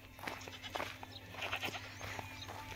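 A goat bleats a few times at moderate distance near a canal, short faint calls over a quiet outdoor background.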